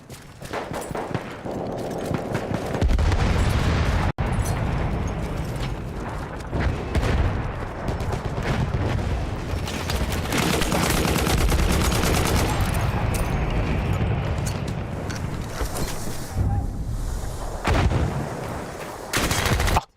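Gunfire in the video game Battlefield 1, rapid loud bursts of shooting and booms running almost continuously for about twenty seconds, with a sharp single crack partway through.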